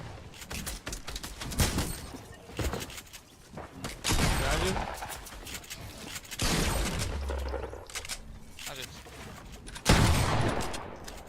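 Gunfire in the video game Fortnite, bursts of rapid shots and single cracks scattered through the clip, fairly close and mixed with game effects and footsteps, with some voice in the background.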